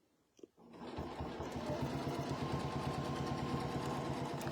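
A sewing machine stitching a quilt block starts after a short click and then runs in one continuous, close, even mechanical whir with a fast needle rhythm for the rest of the clip.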